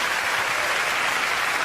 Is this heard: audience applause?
yes